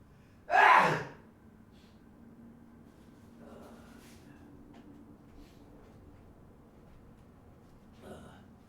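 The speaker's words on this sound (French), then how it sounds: "Oh putain, je vais éternuer." One loud, sharp human sneeze bursts out near the start, followed by a mostly quiet room with faint small noises and a brief breath near the end.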